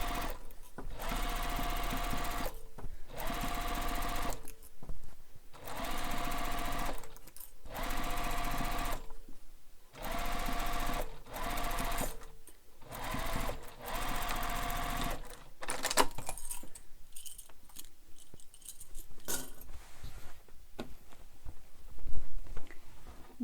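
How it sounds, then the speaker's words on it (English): A sewing machine stitches a beach bag side seam through mesh in repeated bursts of rapid mechanical chatter separated by short pauses, then gives way to quieter handling rustles and clicks, close up with no speech. "So sewing this with your full seam allowance all the way up the side."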